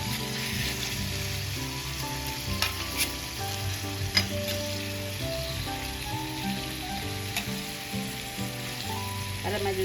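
Chicken adobo with egg frying in a pan while the pieces are turned, a constant crackling sizzle under a faint background tune, with a few brief clicks of a utensil.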